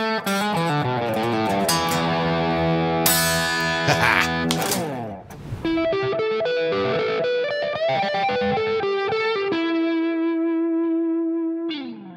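An electric guitar plays a quick lick with heavy distortion and effects, fast notes and bends ending on a sustained held note that rings out.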